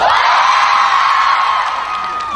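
Outdoor-stage audience at a film promotion event in Busan, cheering and whooping loudly in a sustained, dense crowd roar with shouts throughout.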